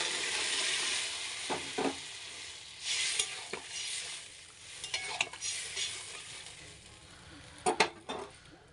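Water is poured onto turmeric-and-salt-fried pabda fish curry in a pan, raising a hissing sizzle. Stirring scrapes and a few sharper utensil clacks break up the steady frying noise, all close and fairly loud.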